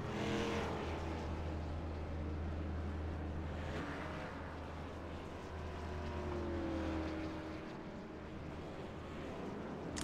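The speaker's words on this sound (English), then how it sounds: "All the cars coming down pit road right now." Stock cars of the NMNTS series at Langley roll slowly down pit road, a steady low engine drone with some wind noise, continuous and fairly close, no voices.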